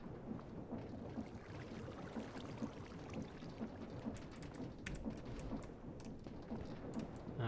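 Steady, dense video game rain in a Minecraft modpack pours without letup, with low thunder rumbling beneath it and no voices.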